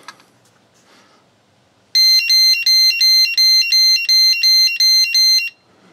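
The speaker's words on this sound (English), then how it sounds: "so that your low voltage alarm goes off when it's supposed to." A portable power station's low-voltage battery alarm beeps in a rapid, even series of about ten loud, high-pitched pulses, starting after a couple of seconds of near quiet.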